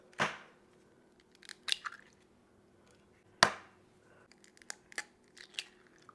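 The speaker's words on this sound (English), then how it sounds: "we're going to crack our eggs into this vessel here" Eggs cracked into a vessel for a rum cake batter, two sharp shell cracks several seconds apart, each followed by small wet drips and soft taps, close and quiet with no talking.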